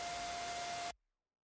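Synthesized tonal noise built from white noise layered with a square oscillator pitched up an octave, for a Barely Alive style drop: a steady bright hiss carrying one sustained pitched tone, lasting under a second and then cutting off abruptly.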